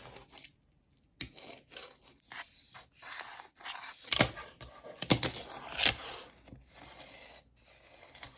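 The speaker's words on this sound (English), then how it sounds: "On the other side is an aluminum coping, and it gives a really satisfying sound as well." Scraping, grinding rasps of a Tech Deck fingerboard sliding along aluminum coping, in short repeated bursts with brief clicks between, close and fairly quiet.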